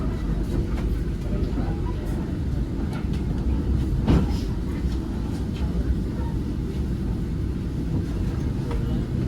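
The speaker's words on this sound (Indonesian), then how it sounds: "Kereta api Malioboro Express nantinya akan diberangkatkan tepat dari stasiun Madiun sesuai jadwal pada pukul 13 lebih 1 menit" Malioboro Express train at Madiun station in Indonesia, a steady loud low rumble of the train and platform noise throughout, with faint clicks and one brief sharper knock midway.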